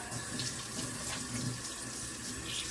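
A kitchen tap runs steadily into a sink during washing up, a continuous close hiss and splash of water filling the whole stretch with no voices.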